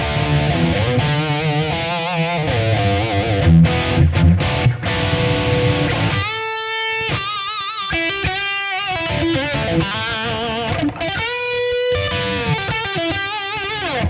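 Clean electric guitar notes and chords ring out with a wash of reverb, sustained phrases trailing into a spacious decay, played alone without talk.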